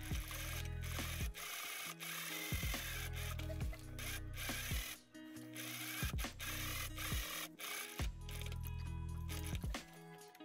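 Domestic sewing machine top stitching a denim skirt in several bursts, each a rapid run of low mechanical stitching with pauses and handling noises between runs.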